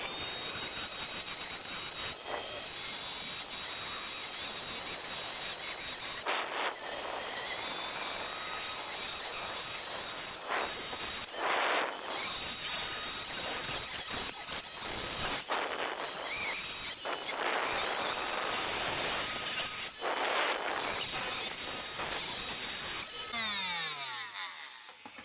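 A multi-tool cuts into a plug casing in a small workshop shed, giving a steady high-pitched whine with bursts of grinding that run nearly the whole time, broken by a few short pauses.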